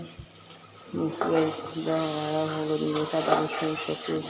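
A rui fish curry is being stirred in a pan, with a spoon scraping and clinking against the metal over a soft sizzle. The stirring runs in steady strokes up close, with a voice heard briefly at one point.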